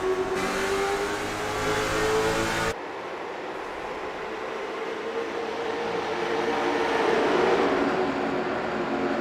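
Late model race cars pull away together after a restart in a 40-lap main event at a race track. The pack roars loudly, the engine drone rising and shifting as the field passes, with no voices over it.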